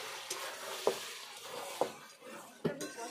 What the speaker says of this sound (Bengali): ঢাকনাটা খুলে নিচ্ছি, তেলটা বেরিয়ে এসছে, মাংসটা প্রায় দিকে কষা হয়ে এসছে।